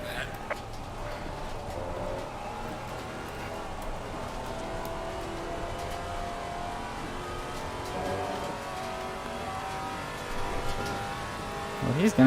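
A Maserati race car in Assetto Corsa Competizione, driven at Kyalami, holds a steady engine note that shifts with throttle, with rising revs and faint tyre noise toward the end and no talk over it.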